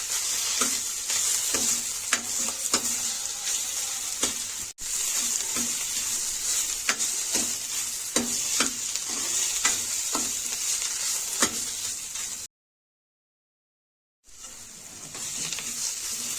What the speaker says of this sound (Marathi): याला जे आहे पाच ते सात मिनिटं आपण जे आहे चांगलं फ्राय करून घेणार आहोत